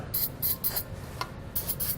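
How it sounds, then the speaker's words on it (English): Spray lubricant hisses from an aerosol can onto a rubber exhaust hanger under a vehicle in several short bursts of similar length, close and crisp. "We're going to spray some spray lubricant on it."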